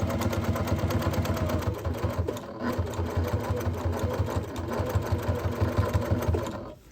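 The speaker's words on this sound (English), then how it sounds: "I'll just back stitch it and bam, that's finished" A sewing machine stitches fabric for a bowl cozy, including a back stitch, with a fast, steady mechanical whirr. It runs close and loud for nearly seven seconds, with one brief dip partway through, then stops.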